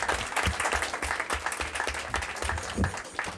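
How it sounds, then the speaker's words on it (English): An audience at a school district board meeting gives loud, sustained applause for students, a choir and a jazz band, a thick wash of many hands clapping close and steady throughout. "Let's give them a big round of applause and thank them for being here this evening."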